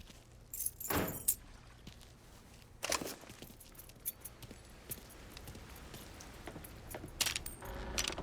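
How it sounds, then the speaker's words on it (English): Car keys being picked up in Mafia III, a few faint metallic jangles and clinks scattered across a quiet scene, with sharper taps near the start and the end. "Lincoln, pick up the keys."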